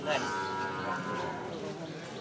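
A cow lows in a long, sustained moo at a busy open-field cattle market, fairly near and steady against the background murmur of the crowd.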